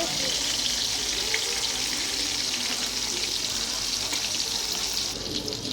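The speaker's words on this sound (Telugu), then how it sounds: "ఇప్పుడు రెండో వైపు తిప్పి చూద్దాము ఫ్రై అయిందో లేదో." Fish pieces frying in a pan for fish fry and gravy, a steady, fairly loud hissing sizzle that eases slightly at the very end.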